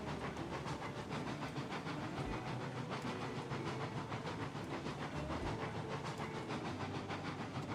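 Steam locomotive in the train game Railroads Online, a steady faint hiss and rumble of the engine running continuously with soft rhythmic chuffing, no talking.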